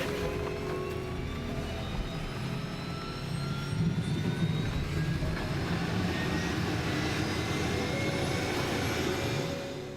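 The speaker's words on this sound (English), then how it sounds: "we have to fly by helicopter" Helicopter in flight carrying a salmon operation crew over remote roadless wilderness, a steady loud engine and rotor drone holding throughout with a slight swell midway.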